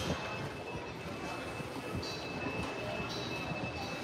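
A Magic Kingdom monorail pulls in as a steady rumble of rolling wheels with faint squeals, heard up close and without speech.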